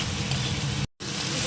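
Onion paste fries and sizzles in a pan while being stirred, a close, steady hiss broken by a brief cut of silence before resuming.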